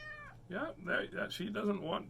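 A house cat meows several times in quick succession, close and fairly quiet, with a person talking briefly over the first part.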